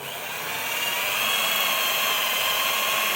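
A power drill whines steadily as it bores into a metal double bowl part from a carbureted Beat scooter, a loud continuous high-pitched grinding with no talking.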